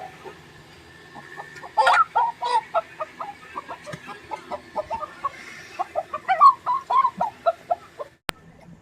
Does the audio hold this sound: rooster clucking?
yes